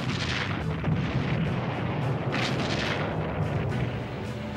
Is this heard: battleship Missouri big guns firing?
yes